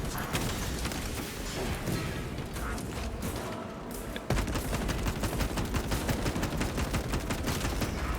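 Rapid, close gunfire from a servo harness gun in the video game Deathwatch rattles in dense continuous bursts with a brief break, followed by louder, sharper shots.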